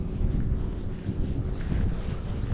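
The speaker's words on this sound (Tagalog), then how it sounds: "Lakas na yung hangin guys, lakas ng hangin." Strong wind buffets the microphone at the shore during squid fishing, a constant low roaring rush with gusty swells and no other clear sounds.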